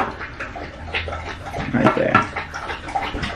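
A pet dog laps water from its bowl indoors, giving irregular wet slurping splashes at close range, with a brief spoken remark partway through.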